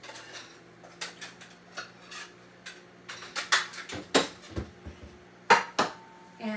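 A plate is grabbed in a home kitchen, bringing a run of crisp clinks and clatters of dishes and cutlery, scattered sharp knocks of varying loudness against a quiet background.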